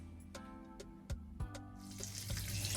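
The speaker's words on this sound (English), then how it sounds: "I'm going to start washing my potato" Potatoes are washed under a running kitchen tap, with a soft stream of water, a few sharp knocks and clicks of handling, and the flow growing fuller toward the end.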